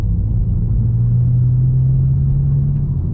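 A VW MK8 GTI fitted with an ECS catback exhaust drones in 4th gear around 1,500–2,000 rpm, a loud, steady bassy hum with constant low rumble from inside the cabin.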